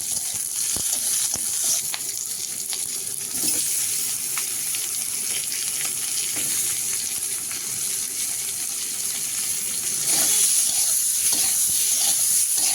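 Chopped garlic, panch phoron and slit green chilies frying with onion in a pan, a steady soft sizzle with occasional stirring clicks, no talking.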